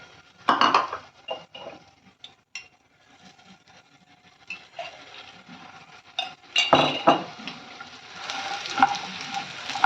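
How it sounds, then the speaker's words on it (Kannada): Dates are stirred and warmed in a hot pan for dry fruit laddu, with soft sizzling, a spoon scraping and clinking against the metal pan in irregular bursts, and a louder clatter partway through. "ಖರ್ಜೂರ ಬಿಸಿ ಮಾಡ್ಕೊತ ಇದ್ದೀನಿ"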